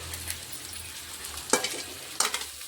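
Fried sprouted green gram crackles softly in a pan for a garlic-seasoned usli, with a low continuous sizzle broken by two sharp scraping strokes of a spoon, close up.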